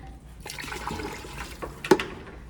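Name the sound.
water being added to ceramic glaze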